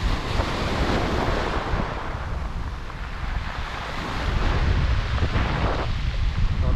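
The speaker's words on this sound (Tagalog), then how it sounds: "Maaga pa lang pero medyo may hangin na." Wind and waves at sea on an early morning fishing trip: steady gusting wind buffets the microphone over the wash and slap of surf, loud and continuous with a swell near the end, and no one speaking.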